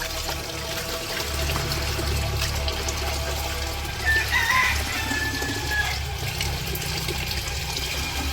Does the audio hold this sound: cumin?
no